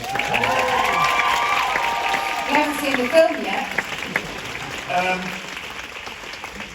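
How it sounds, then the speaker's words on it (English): Audience applause and cheering at the London premiere of Off The Rails, during a tribute to Kelly Preston, rising and falling under a speaking voice that runs through most of the stretch. "Should we give her a round of applause?"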